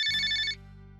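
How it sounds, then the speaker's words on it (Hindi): A telephone ringtone gives one loud, bright electronic burst of about half a second, then cuts off, leaving a low steady hum in the background. "देखिए मौसी जी का फोन आया है"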